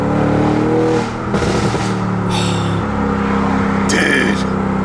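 An Audi RS7 engine revs hard and loud at close range, rising and falling through several throttle blips with a deep, rumbling tone and no talking over it.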